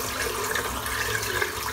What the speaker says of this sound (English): Just rinse this soap out.